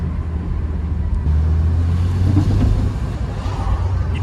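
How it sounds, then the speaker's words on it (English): A damaged Nissan Nismo rolls along at low speed, a low engine and road rumble with occasional knocks and clunks from a failing suspension strut, heard from inside the car. "there's something in that suspension. Like, that strut sounds like crap."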